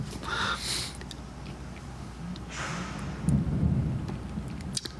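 Thunder rumbles through rainfall in Manila, a couple of low, distant rolls over a steady hiss of rain, with no talking.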